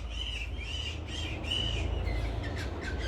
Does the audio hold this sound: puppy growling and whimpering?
no